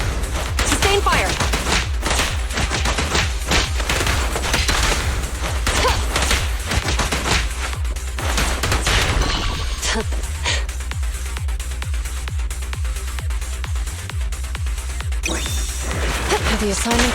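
Continuous heavy gunfire in Zenless Zone Zero, a dense fusillade of rapid shots with impacts under busy game sound, loud and steady throughout.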